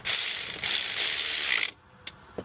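A ratchet tightens the alternator mounting bolts on a Dodge Dakota in a fast, continuous, loud clicking run of under two seconds, close up, then a couple of faint knocks; no talking.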